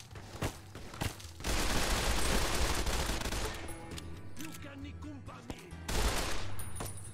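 Enemy gunfire in Fallout: New Vegas at the Vault 22 campground area, heard as dense bursts of shots and a sustained fusillade, loud and close, with a few isolated cracks and footsteps between volleys.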